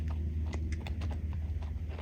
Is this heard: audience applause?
no